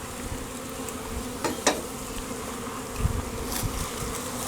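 Constant droning hum of a swarm of honey bees close up as they are shaken into a new hive, with a few faint knocks and rustles.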